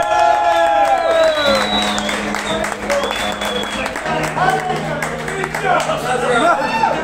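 A concert crowd at a metal show in Costa Rica applauds and cheers with scattered whistles, loud and steady throughout, while voices chatter and call out over the clapping.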